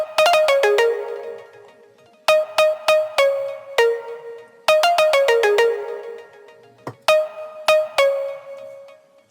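Bright FM-synthesis pluck synth plays a melodic pattern of short, quick notes in bursts, clear and alone with no voices.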